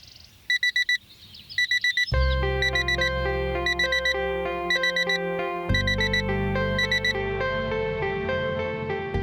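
A morning alarm clock rings with bursts of electronic beeping, then a loud musical ringtone melody with a heavy low backing. The ringing is continuous, close and nearly alone.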